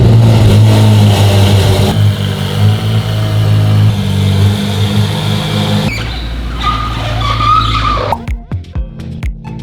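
A Mercedes SLS AMG runs loud and close, its engine droning and revving with tire squeal and skidding before the sound cuts to sharp clicks and knocks.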